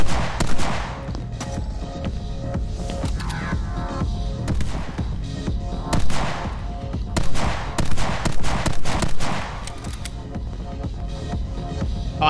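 Rapid, loud sniper rifle fire from the video game My Friend Pedro, with bursts of close shots repeating across the whole stretch over a constant layer of game music and effects.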